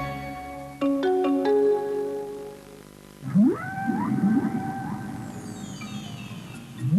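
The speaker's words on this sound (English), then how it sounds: "They are whales." Whales call in a series of tonal moans and rising, sweeping wails, starting with a few short descending notes and then long gliding cries that echo, fairly loud with no talk.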